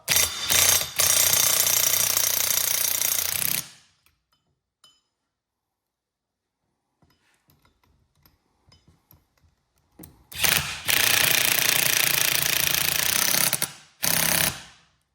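Hand ratchet with a 6-point socket tightening a nut on a steering assembly for a 1957 Chevy truck, two long bursts of rapid clicking separated by quiet handling noises, then a short final burst.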